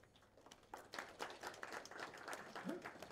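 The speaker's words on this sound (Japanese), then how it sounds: "監督選手の皆さんに大きな拍手を今一度お願いいたします。" Sparse, faint applause from a small group at a women's football league opening press conference, scattered individual claps building into a light, distant round over a few seconds.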